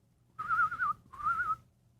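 A person whistles two clear, sustained wavering notes separated by a short gap, close and fairly loud over a quiet background.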